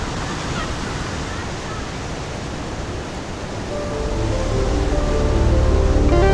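Steady roar of ocean surf at dawn where fishermen head out to sea, a dense continuous wash of breaking waves that swells louder toward the end, with no voices.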